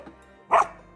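A dog impatient for its stick to be thrown gives one sharp, loud bark close by, after a brief quiet lead-in, then quiet again.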